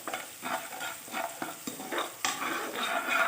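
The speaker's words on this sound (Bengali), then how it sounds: "আদার কাঁচা গন্ধটা চলে যাওয়া পর্যন্ত নেড়ে নেব।" Ginger being stirred and fried in a pan for a vegetarian winter-vegetable khichuri, heard as a steady run of scraping spatula strokes over a soft, continuous sizzle, close and with no talking.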